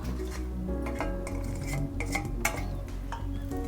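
Fried cauliflower is stirred into masala in a metal pot for a pickle, with a spoon scraping and clanking against the sides in a busy, close, continuous rhythm of clinks.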